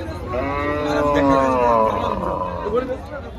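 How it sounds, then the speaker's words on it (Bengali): Cattle at Tepakhola cattle market in Faridpur, with a long, loud moo close by, set against the busy murmur of the market crowd. "এখান দিয়ে গরুগুলো হাঁটাই নিয়ে যাচ্ছে।"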